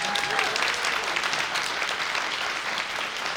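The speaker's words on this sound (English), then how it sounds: "let's give you all a round of applause" An audience at a university awards ceremony at Buffalo State claps steadily and loudly, a dense wash of applause that holds throughout without pause.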